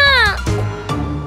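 A cartoon talking cat meows, a bright, rising-and-falling tonal cry lasting about a third of a second, followed by softer voiced sounds and a second short vocal burst, loud and close.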